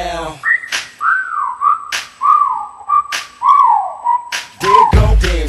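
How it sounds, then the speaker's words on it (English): A melodic tune whistled in a hip-hop track, loud and close, with rising and falling phrases punctuated by sharp percussive beats, ending in a heavier bass hit. "Okay, time to whistle at her."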